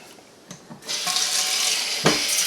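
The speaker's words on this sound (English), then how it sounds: "So run water in the pan, use your fingers to agitate the water and rice to wash it." Tap water runs steadily into a pan of Japanese rice being washed, starting with a few small knocks before a continuous, fairly close rush of flow, with a brief louder splash near the end.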